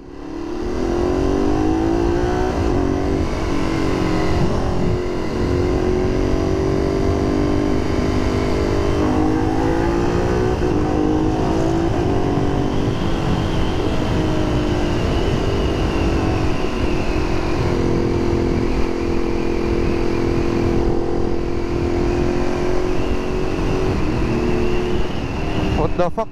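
Motorcycle engine running without its radiator, revving and rising in pitch repeatedly, loud and close for the whole stretch, with a voice speaking over it at times.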